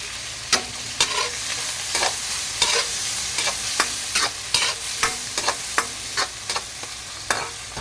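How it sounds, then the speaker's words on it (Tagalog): Tomatoes and bagoong shrimp paste sautéing in a pan, a steady sizzle broken by regular sharp clacks of a spoon or spatula stirring, close and clear, with no talk. "Dito na muna tayo sa bagoong natin na ginisa."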